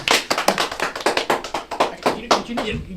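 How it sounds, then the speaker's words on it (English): A small audience at a Smash Bros esports event claps in distinct, uneven bursts, close and fairly sparse, with a voice briefly near the end. "Give him a round of applause"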